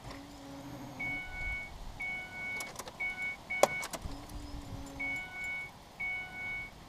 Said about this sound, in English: Roll the key over a few times to let the pump get all pressured up.